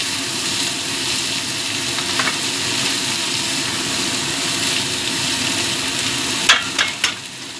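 Chopped onions fry in a pan for prawn do pyaza, with a loud, continuous hissing sizzle throughout and a couple of sharper stirring scrapes near the end.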